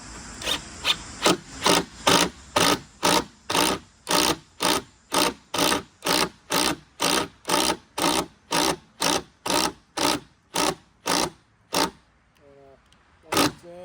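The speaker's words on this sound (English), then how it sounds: "All right, and drill away." A hand drill bores into wood for a deck rail with spindles, a steady rhythm of rasping strokes, about two per second, before briefly pausing near the end.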